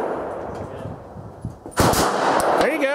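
A single sharp pistol shot from a Glock handgun cracks out loud and close at an outdoor range, following a quieter stretch of low background rumble, with a ringing tail trailing afterward.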